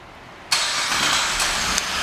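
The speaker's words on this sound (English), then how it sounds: "this vehicle also has a remote start" A silver 2011 Cadillac SRX starts by remote, the engine catching suddenly and settling into a steady idle, close and clear with no talk.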